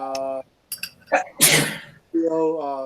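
A single sharp sneeze cuts in between stretches of voices talking, close and fairly loud, followed by more conversation.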